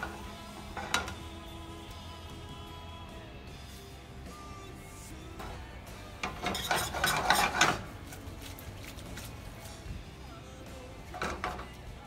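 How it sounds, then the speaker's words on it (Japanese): Pasta being tossed in a pan with a whitebait and shiso sauce, giving soft stirring and scraping with light clinks of pan and utensil, a busier burst of clattering midway, fairly quiet and without speech. "しらすと大葉のこの餡をですね、パスタにしっかりと絡めるように、合わせていきます。"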